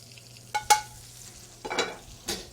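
Shrimp cooking in a pan, heard as a few brief, quiet scraping and clattering bursts of stirring over a faint sizzle, with no voices.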